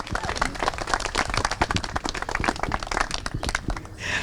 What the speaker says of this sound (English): Perhaps a round of applause for our wedding party and the amazing job they're all doing today.